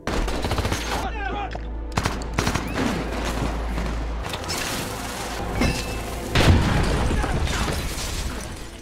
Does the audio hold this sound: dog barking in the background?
no